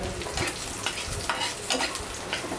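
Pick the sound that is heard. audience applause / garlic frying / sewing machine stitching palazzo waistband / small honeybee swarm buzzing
garlic frying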